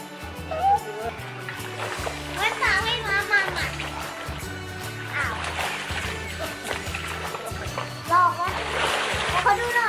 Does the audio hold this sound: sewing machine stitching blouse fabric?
no